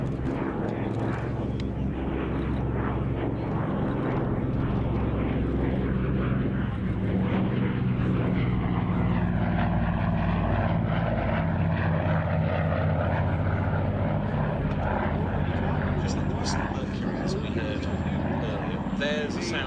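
An Avro 19 with twin Armstrong Siddeley engines flies past at a Battle of Britain airshow at RAF Duxford, its propeller drone steady and loud throughout while people talk nearby.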